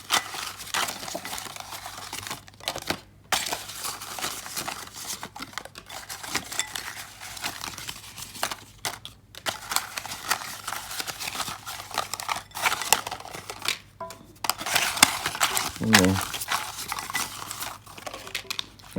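Tarot cards being shuffled by hand, a soft, irregular series of papery riffles and slides close to the microphone with brief pauses between bursts, heard alone without talk.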